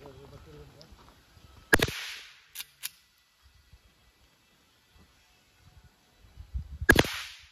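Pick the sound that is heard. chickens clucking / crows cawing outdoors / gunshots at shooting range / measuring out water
gunshots at shooting range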